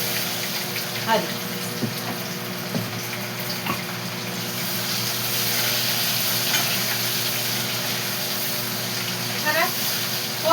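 Garlic sizzles in hot tempering oil for a chutney, a constant frying hiss with a few soft pops and clinks, as a voice speaks over it now and then.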